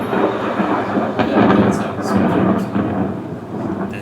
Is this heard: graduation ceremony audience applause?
no